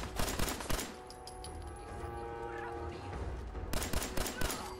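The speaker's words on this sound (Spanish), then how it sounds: "¿Quién me está disparando por atrás?" Rapid gunfire bursts in Fallout 4, loud clustered volleys at the start and again near the end with a quieter stretch of distant shots between.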